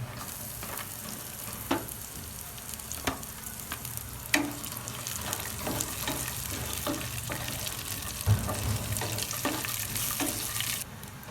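Green chillies fry in oil for a leftover rice dish, giving a soft steady sizzle with scattered pops and occasional stirring clicks, close but fairly quiet and with no voices.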